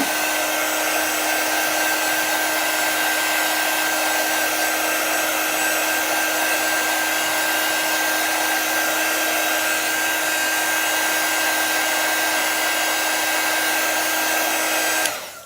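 Handheld dryer blowing steadily up close to dry a chalk paste transfer, a loud continuous whooshing hum with a steady whine that holds for about fifteen seconds and then cuts off.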